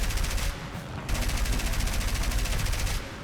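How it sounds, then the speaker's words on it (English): Rapid machine-gun fire from a Soviet I-15 biplane fighter in War Thunder rattles in a steady, loud stream, pausing briefly once and then continuing, alone without voices. "So I decide I'm going to take a couple of quick shots"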